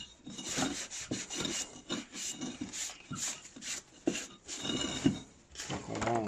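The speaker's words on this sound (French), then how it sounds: "Coup de chiffon." A cloth wipes across a surface while making a flower-pot birdhouse, giving repeated short rasping rubbing strokes in an uneven rhythm, close and moderately loud.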